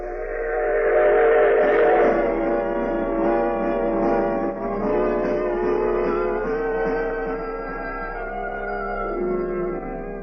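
A steam train sound effect from a radio drama: a rumbling railroad car with a drawn-out, multi-tone whistle sounding over it, loud and continuous for about ten seconds with no talk.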